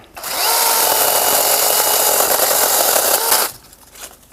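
A Procraft PKA44 cordless mini chainsaw with a loose, sagging chain whirs up sharply and runs at a steady high buzz for about three seconds, then cuts off abruptly into quiet.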